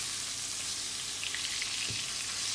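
Butter melts and browns in a pan on high heat, giving a soft, even sizzling hiss at low volume, with a faint tap near the end.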